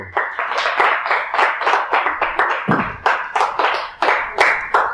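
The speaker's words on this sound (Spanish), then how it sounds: "Denle ese fuerte aplauso" A church congregation clapping during a sermon, loud close claps in an irregular, fairly quick rhythm, each sharp strike standing out separately rather than blending into a wash.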